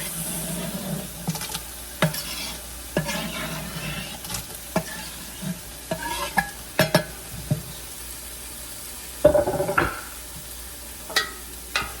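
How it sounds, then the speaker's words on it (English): Chopped tomatoes and peppers sizzle in a bouillabaisse pot under a steady frying hiss, with repeated spoon knocks and scraping taps against the pot, close by and without speech. "I'm gonna go ahead and add the tomatoes and the peppers."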